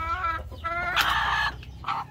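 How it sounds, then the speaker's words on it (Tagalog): A Rhode Island Red hen clucks repeatedly up close, a series of short throaty calls rising into a louder squawk, with no talking. "Isama na natin tong inahin na pinalit natin sa itik kay Locano."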